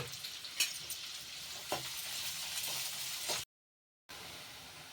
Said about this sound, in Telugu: గోల్డెన్ బ్రౌన్ కలర్ వచ్చే వరకు ఇంకా ఆనియన్స్ ఫ్రై చేసుకోవాలి మంచిగా